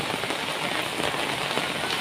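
Heavy rain pours steadily, a thick continuous patter of drops on a hard surface, close and loud throughout.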